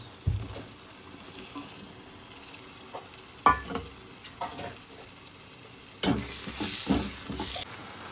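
Fanas vegetable going into a pan to be stirred and fried: a soft, steady sizzle broken by three louder bursts of scraping and clattering nearby.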